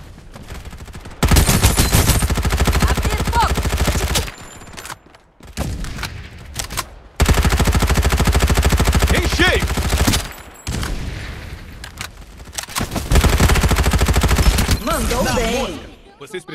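Bursts of rapid gunfire in the video game Farlight 84, loud and close, come in several long volleys separated by short pauses, with brief speech-like sounds in between.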